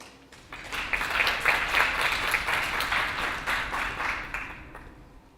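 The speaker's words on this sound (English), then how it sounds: "let's welcome him with a round of applause" A conference audience at a spiritual diversity panel claps to welcome a speaker, rising quickly into sustained, fairly loud applause that holds for several seconds before tapering slightly.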